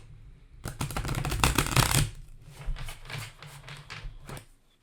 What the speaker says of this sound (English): Time for the second shuffle.